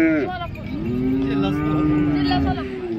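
A cow lows loudly and close at a rural cattle market in Modnimb, Maharashtra, giving one long sustained moo after a brief opening call, with faint crowd noise behind.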